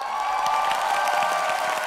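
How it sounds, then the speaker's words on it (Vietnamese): Audience applause at a Vietnamese televised singing competition: a steady, dense wash of clapping and cheering from a large crowd, sustained evenly throughout, with no talking heard. "Một tràng pháo tay lớn hơn nữa dành cho Đào Ngọc Sang"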